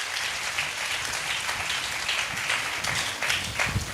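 Sustained applause from a crowd, a continuous wash of clapping hands at moderate volume that carries steadily throughout.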